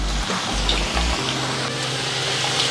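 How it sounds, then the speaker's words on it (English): Batches of homemade French fries bubble in hot oil with a loud, continuous, close frying hiss that holds steady throughout. "Oil is nice and hot. Now I'm just going to fry these in batches."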